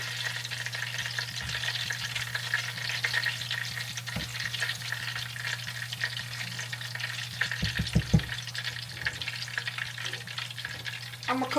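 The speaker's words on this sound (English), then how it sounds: "I'm going to add the garlic. I turn the heat down on the garlic because you don't want the garlic to burn" Garlic sizzles steadily in a frying pan over lowered heat, a close, continuous frying hiss with a few brief stirring clatters near the middle and end.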